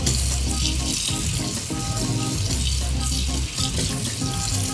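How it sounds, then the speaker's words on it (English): A tablespoon is rinsed under a running tap, a loud continuous rush of water splashing close and steady for several seconds with a brief dip near the end, no talking. "I'm gonna give this a quick rinse actually"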